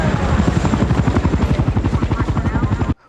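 A medevac helicopter in the 2016 film Arrival, its rotor beating in a loud, steady rapid thump with a constant engine whine, running for about three seconds before cutting off abruptly.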